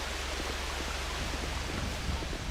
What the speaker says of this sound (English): that waterfall's really loud